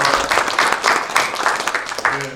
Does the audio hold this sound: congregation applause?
yes